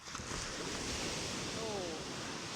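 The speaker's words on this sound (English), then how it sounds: "the sound of the waves actually quite scary" Ocean surf breaking on the shore at Baler, a loud, continuous roar of waves mixed with wind buffeting the microphone, with a faint voice briefly audible.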